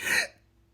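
A single short burp from a person, a brief throaty burst that fades out quickly into near silence.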